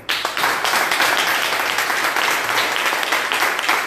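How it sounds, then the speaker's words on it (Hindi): A large audience at a health and wellness event in India clapping together in respect, loud dense applause starting abruptly and sustaining evenly with sharp individual claps. "एक बार मैं चाहूँगा कि आप सभी लोग सभी सेंटर में एक साथ हमारे एक्स मेंबर्स के रेस्पेक्ट में एक ताली बजाएं एक बार"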